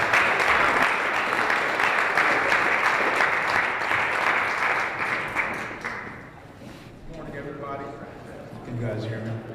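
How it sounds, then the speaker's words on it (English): Forum audience at a Wisconsin voting event claps loudly and steadily for several seconds, then the applause fades out and a speaker's voice takes over near the end. "Let's give a round of applause for Jared."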